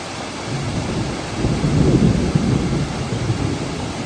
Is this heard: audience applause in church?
no